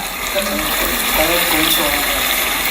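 Water is poured into a pan of chicken curry, a brief, steady gushing pour against the cooking noise, with a voice faintly present.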